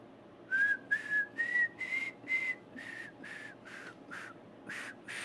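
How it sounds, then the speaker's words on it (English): A person whistles a simple melody of about a dozen clear, evenly spaced notes, close and fairly loud at first and then a little softer, with no speech around it. "Can you whistle it back to me?"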